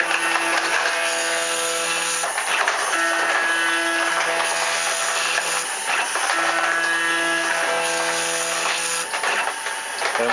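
A CNC machine homing and squaring its gantry, with stepper motors whining in steady tonal runs that stop and restart, loud and close, with no voices.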